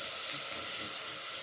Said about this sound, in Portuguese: Então aqui vamos deixar refogar.